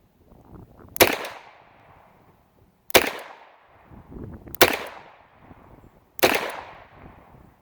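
Four sharp double-action shots from a Colt Official Police .38 Special revolver crack out at roughly even intervals, each a loud close report with a brief decaying tail and light handling noise between.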